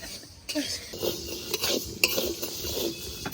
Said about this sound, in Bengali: এবার ডাল ভেজে নেবো